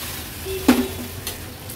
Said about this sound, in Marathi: मी आता ही पातेल्यात भाजी बनवते म्हणून गरम पाणी घेतलं आहे। गरम पाणी ऍड करूया।